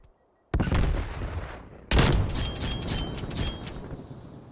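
Gunshots in a video game, two heavy blasts with long rumbling, echoing tails, the second followed by crackling debris.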